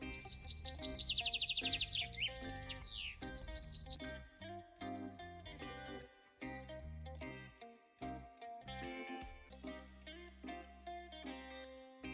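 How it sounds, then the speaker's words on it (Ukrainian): Busy sparrow song with rapid high chirps and tweets at first, then a steady mix of calls and trills continuing throughout, moderately close. "Горобці люблять співати, а їхній голос чути майже скрізь."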